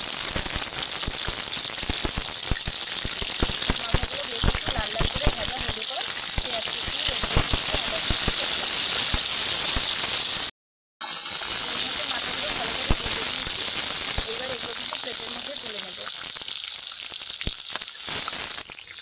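Three turmeric-rubbed hilsa fish heads frying together in hot oil, a loud, dense crackling sizzle that runs nearly the whole time, broken by a brief cut of silence midway.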